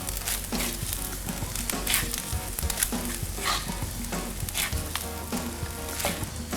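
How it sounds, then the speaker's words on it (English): Fried rice sizzling in a hot pan as sweet corn, spring onions and eggs are stirred in, a dense steady fry with scraping stirs throughout, no talking. "So next I'll add my sweet corn and my spring onions and also the eggs. And then I'll stir."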